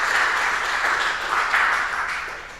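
A conference audience applauds with a steady, dense patter of clapping that fades slightly toward the end.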